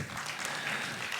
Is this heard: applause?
yes